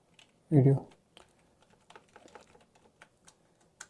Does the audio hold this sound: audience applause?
no